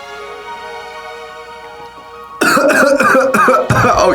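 A person coughing after sipping a DreamWorks-themed tea, several harsh throat-clearing coughs close to the microphone following a quiet stretch with a faint tonal hum.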